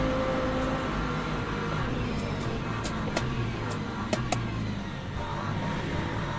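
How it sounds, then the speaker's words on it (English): An LMP2 race car in Le Mans Ultimate roars past under a constant drone of in-car engine noise, its engine note holding steady and loud with a few sharp clicks near the end. "there's an LMP2 coming through the left"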